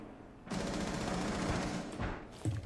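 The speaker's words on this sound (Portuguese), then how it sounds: "Ah, eu tomei tiro, inclusive." Rapid gunfire bursts out in a round of Rainbow Six Siege, a sustained loud volley followed by a couple of shorter bursts, with no talk over it.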